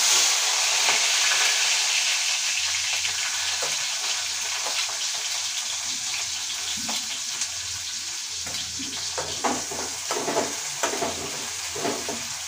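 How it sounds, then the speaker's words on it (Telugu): Chopped onions frying in a pan for hotel-style egg curry, a loud continuous sizzle with occasional crackles and stirring scrapes, close and without talk. "ఆనియన్ అనేది బాగా ఎర్రగా అయ్యేంత వరకు వేయించుకోవాలి"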